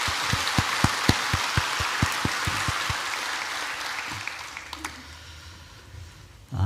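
A church congregation at a Sunday worship service claps together, starting with a run of sharp, evenly spaced rhythmic claps before breaking into looser, scattered applause that fades out.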